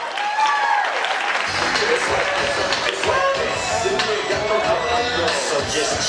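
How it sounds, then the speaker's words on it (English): Guests at a reception give a big round of applause, a sustained mass of clapping close by, with voices calling out and chatting over it. "I'd love for all of us to give a big round of applause for her"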